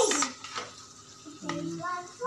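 A metal pot lid clanks onto a pan of string beans adobo in a home kitchen, a few short clattering knocks and a brief ring amid quiet kitchen noise and faint voices.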